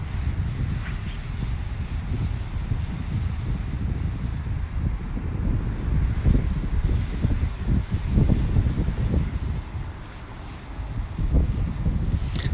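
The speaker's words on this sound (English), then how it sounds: "It's a little windy out, so." Wind buffets the microphone in a steady, gusty rush, low rumbling bursts rising and falling throughout with no one speaking.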